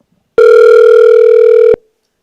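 A single telephone ring tone sounds: one steady electronic tone lasting just over a second, loud and clear, alone.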